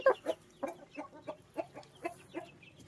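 Chickens cluck in a steady run of short, close calls, about four per second, with no talking over them.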